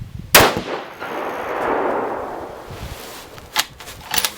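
A single loud 6.5 PRC rifle shot firing a 140-grain ELD-M bullet cracks sharply outdoors in the cold, followed by a long, broad rumbling echo that slowly fades, then a couple of small clicks.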